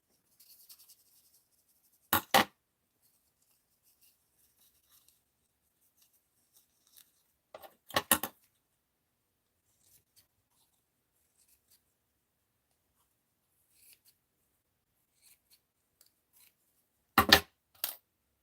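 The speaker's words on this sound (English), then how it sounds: "So let's cut this out." Scissors snip through paper in a few short, separate bursts spaced by long quiet stretches during a mixed-media craft project, each cut brief and close.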